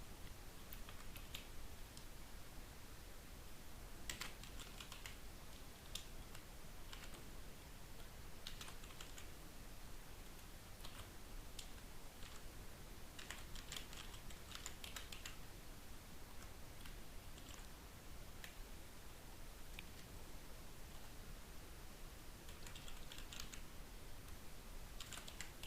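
Someone types steadily on a computer keyboard, with quiet, fairly close key clicks in irregular bursts over a faint background hiss for the whole stretch.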